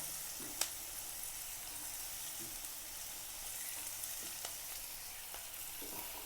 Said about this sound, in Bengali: এগুলো সব একসঙ্গে আবার একটু ভেজে নেবো